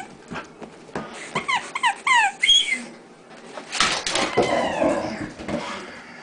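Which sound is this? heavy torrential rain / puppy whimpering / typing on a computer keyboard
puppy whimpering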